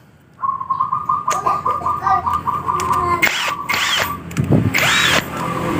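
Tightening a bolt on the rear wheel of an older Honda Vario scooter: a power tool whines steadily for a few seconds, then rattles and buzzes in short bursts, with pigeons cooing nearby.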